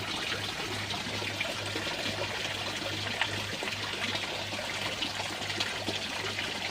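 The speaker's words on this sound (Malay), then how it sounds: "Air dah masuk, buka kuat sikit" Water runs steadily into a homemade fish pond filter, a continuous hissing trickle and splash with a faint low hum underneath, constant and unbroken.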